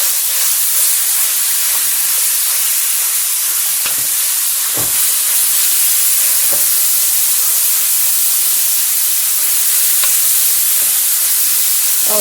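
Ground beef cooking in a pan, a loud, continuous sizzling hiss with a few sharp pops and crackles throughout.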